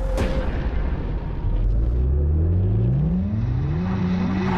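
A V8 car engine revs hard and loud, its pitch climbing steadily through several rising sweeps over a deep rumble, close and alone without talk.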